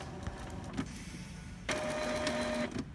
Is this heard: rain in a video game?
no